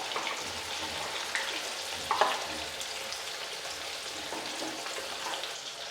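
Thinda fish frying in a pan for lunch, a loud continuous crackling sizzle with occasional spatters and a brief clatter of stirring, no talking.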